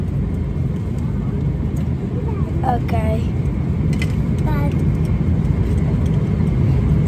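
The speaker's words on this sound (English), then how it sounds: "I'm on the plane, which is called Emirates." A steady, loud low roar of engine and air fills an Emirates airliner cabin in flight, constant throughout, with brief voices speaking over it.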